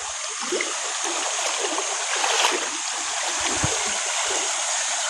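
A strong river current rushes in a steady, loud wash with small splashes close by. No one speaks.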